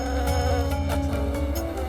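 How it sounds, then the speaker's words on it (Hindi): Bees buzz densely around a hive, a loud continuous droning hum with layered steady tones throughout. "साई, क्या आप मेरी मधुमक्खियों को बिना नुकसान पहुंचाए छत्ते से बाहर निकाल सकते हैं?"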